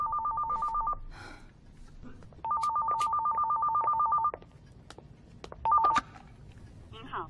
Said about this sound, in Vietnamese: Vũ Nhi, nghe điện thoại đi con